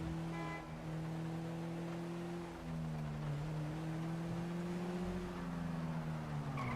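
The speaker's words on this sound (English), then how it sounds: "that's a fast car right there." Fast car in the GTA 5 video game, its engine droning steadily and loudly throughout with pitch rising and falling as it accelerates, plus a brief horn-like toot near the start.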